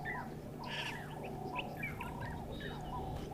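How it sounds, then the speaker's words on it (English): Two Jacobin cuckoos call outdoors in summer, repeated clear whistled notes overlapping at moderate distance over a faint background hum, with no voices. "So nice audio of those two Jacobin cuckoos."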